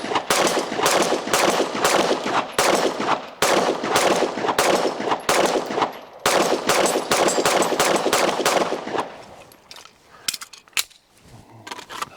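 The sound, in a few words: Glock Gen6 pistol firing with Mech-Gar magazine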